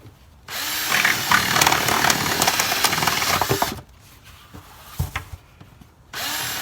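A power drill bores holes through the side of a plant pot, first in a long steady whine, then after a gap in a few shorter bursts, close and loud.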